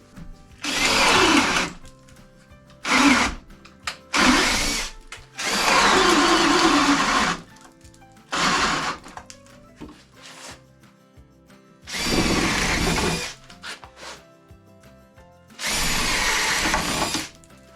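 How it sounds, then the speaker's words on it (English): A power drill whirs in repeated bursts of a second or two, separated by pauses, close and loud, as holes for pipe are drilled one after another in lumber. "as long as I can hold my drill straight, I can drill that out"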